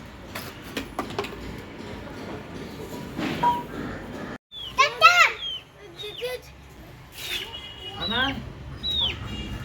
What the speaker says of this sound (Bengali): এখানে আমার বাবা একটা মুরগা এনেছে আর একটা ছোট্ট মুরগি এনেছে